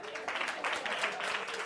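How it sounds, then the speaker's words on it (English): Audience applause and hand clapping at a live gospel show, a fairly faint, steady patter of many hands from the crowd, with a voice partly audible underneath. "clap your hands."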